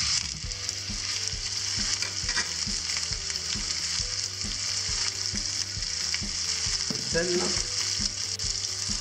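Meat frying in a pan with a drizzle of oil and a knob of butter: a dense, loud, continuous sizzle close up, with a low steady hum beneath and brief stirring sounds, and a single short spoken word.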